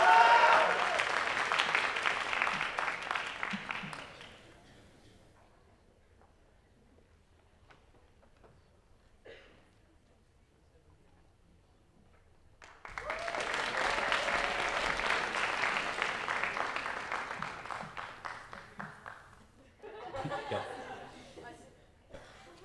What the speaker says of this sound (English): They've earned that applause.